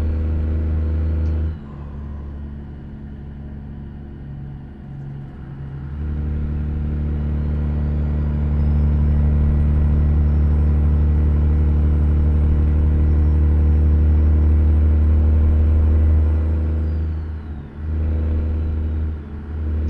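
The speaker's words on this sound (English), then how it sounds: "This engine, it's a C16 800 horsepower by Z Mods." A heavy truck's C16 800-horsepower diesel engine drones and rumbles in American Truck Simulator, revving up steadily to a loud sustained roar with a faint whine on top, then easing off, with no talking.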